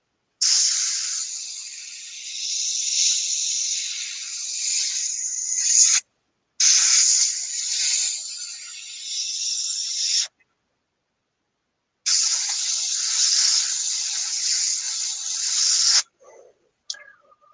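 An airbrush spraying paint onto a scale model gives a steady close hiss in three long bursts separated by short pauses, followed by a few brief sputters at the end.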